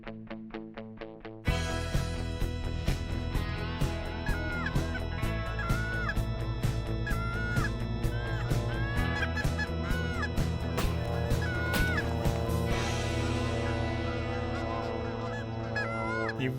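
Geese honking in flight over a stubble field in Sunflower County, Mississippi, a loud dense flock calling continuously and overlapping, close overhead, with brief rustling at the start.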